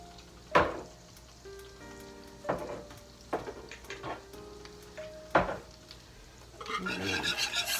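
A spoon stirs chicken alfredo sauce with basil and other herbs in a pan. It scrapes and clatters close by in several sharp bursts over a soft bubbling sizzle that grows denser toward the end.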